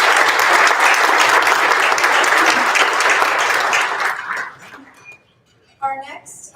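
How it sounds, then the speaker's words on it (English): A banquet audience at a barbecue awards night gives sustained applause, dense and loud for about four seconds, then tapers off into scattered claps and a brief voice. "please join me in a round of applause for Larry Garland"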